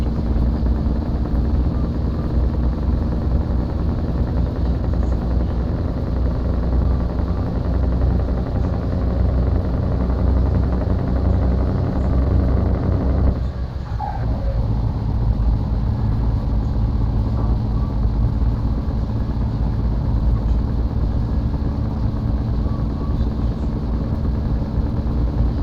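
DAF XF V8 truck engine in the Truckers of Europe 3 video game, a loud steady low rumble holding constant throughout with one brief dip midway, no talk.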